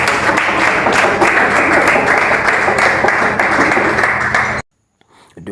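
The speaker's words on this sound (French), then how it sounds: "Applaudissez." Audience applause at a Congolese school event honouring Collège Shalom, dense sustained clapping from many hands at close range that cuts off abruptly near the end, leaving brief faint room noise.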